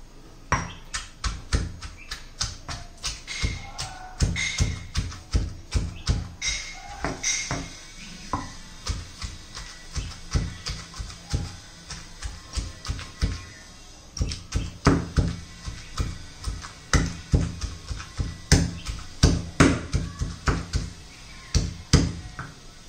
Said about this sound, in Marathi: आपल्याला ठेचून घ्यायचे खलबत्त्यात।